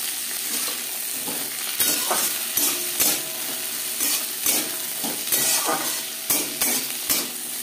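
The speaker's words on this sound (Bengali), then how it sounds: "এবার দিয়ে দেব একটা টমেটো, মটরশুঁটি, আর রয়েছে খুবই সামান্য পরিমাণে বিনস।" Tomato, peas and beans frying with onion in a pan, a continuous close sizzle punctuated by frequent sharp stirring scrapes and spatula knocks throughout, with no voices.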